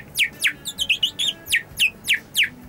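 A voice artist imitates lovebirds chirping, a clear run of about a dozen bright, rapid tweets and trills up close, with no other talk.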